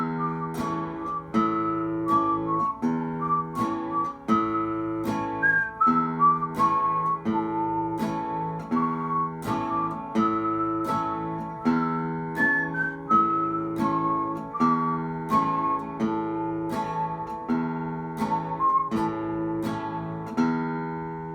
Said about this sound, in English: I'm going to whistle Train 45 while playing that